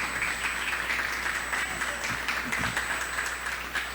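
A church congregation applauds during a service, producing a continuous wash of clapping from many people at moderate level, steady throughout with faint occasional voices mixed in.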